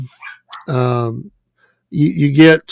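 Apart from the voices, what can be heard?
dog barking in the background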